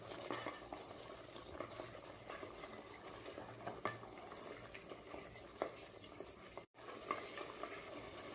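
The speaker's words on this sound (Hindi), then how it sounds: "इसे हम अच्छे से मिक्स कर लेते हैं ताकि प्याज कंप्लीटली घुल जाए इसमें" Mutton cooks with softened onions in a thick gravy in a pot, and the mixture is stirred under a low, steady bubbling sizzle, with faint scrapes and a brief drop-out near the end.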